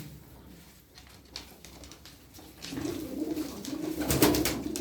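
Pigeons of several fancy breeds coo softly in low, throaty rolls at a loft in Darıca, Turkey, growing louder toward the end, with faint rustling and fluttering nearby.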